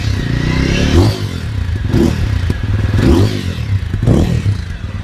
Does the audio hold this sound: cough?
no